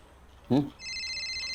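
A brief voice is followed by an electronic telephone ringtone, a steady high warbling tone that continues without pause.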